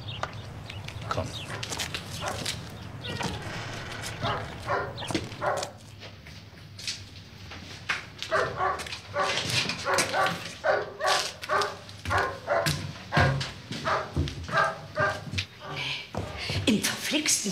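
A dog in a German TV crime drama whimpers and yips in repeated short bursts, mixed in with people talking and other background noise.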